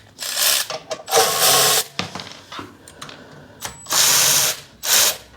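Ratchet wrench with socket and extension worked on a 1966 John Deere 110 round fender garden tractor, sounding as several loud bursts of rapid clicking separated by short pauses, close up with no talking.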